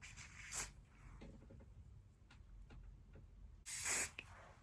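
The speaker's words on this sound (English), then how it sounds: "I have the spray." A spray bottle of alcohol mists onto a human hair frontal wig, two short bursts, one near the start and a longer, louder one toward the end, close by over a quiet room.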